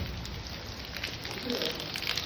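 Heavy rain falls steadily as a dense, continuous hiss with scattered louder patter, a constant wash filling the whole stretch.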